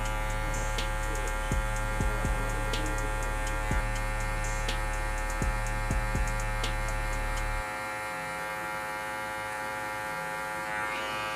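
Electric hair clippers buzzing steadily and close while cutting a men's fade, with small clicks and ticks over the hum and the buzz pitch shifting partway through.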